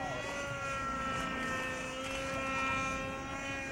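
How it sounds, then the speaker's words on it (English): A radio-controlled model aircraft flies at a fun-fly event in Bakersfield in 1994, its steady, droning engine whine holding at moderate distance and fairly faint throughout, with no talk over it. "This is Vincent's very first public flight demonstration as a sponsored pilot."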